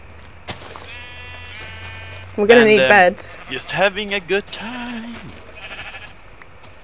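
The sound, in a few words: sheep bleating while being punched in Minecraft video game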